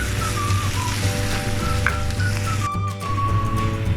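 Garam masala and spices frying in a pan for a Kerala-style beef fry give a steady, close sizzle, with faint whistling tones drifting over the continuous crackle.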